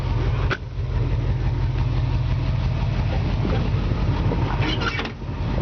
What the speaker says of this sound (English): Engine runs awesome.